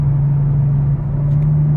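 A car's exhaust at moderate throttle gives a steady, loud, low drone heard from inside the car with the windows up, holding one even tone for under two seconds with no talking.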